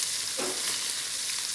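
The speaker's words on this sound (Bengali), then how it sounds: "তো এই যে মাছ ভাজা হচ্ছে," Small young hilsa fish fry in hot oil in a pan, making a close, loud, continuous sizzle with a brief stirring scrape near the start.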